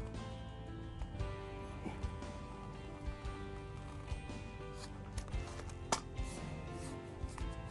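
A marking pin scratches along vinyl flooring beside a terrazzo strip, giving faint, irregular scraping and light clicking ticks with no talking.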